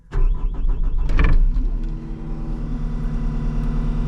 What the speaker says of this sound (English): We'll give it a start here so you guys can hear it.